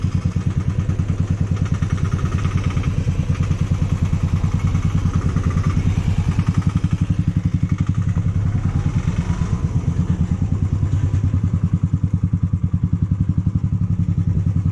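A motorcycle engine idles nearby with a steady, pulsing chug while bikes are parked at a temple festival in Guwahati, accompanied by occasional clatter and thumps, without clear talk.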